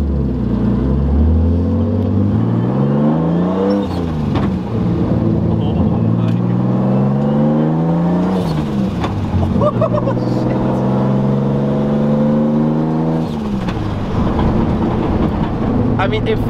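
A bugeye Subaru WRX under way, its engine loud and close, climbing in pitch through several long pulls and dropping back between shifts, droning steadily throughout.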